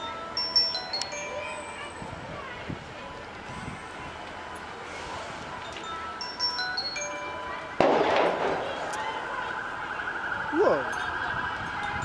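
Fire engines arrive at a balcony fire at 200 Woolner Avenue, with wailing and yelping sirens rising from a distance and growing louder amid outdoor street noise and people talking nearby.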